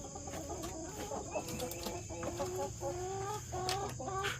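A flock of barred rock chickens and roosters clucks and chatters in a farmyard, a dense, overlapping mix of short repeated clucks and calls heard close and steady, with no talking.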